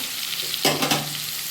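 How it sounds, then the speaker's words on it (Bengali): Potato, ridge gourd and paneer frying with cumin, chilli and turmeric, a brief close sizzle burst and stirring scrape over a steady frying hiss. "দিয়ে এটাকে আমি ভালো করে একটু কষিয়ে নেবো"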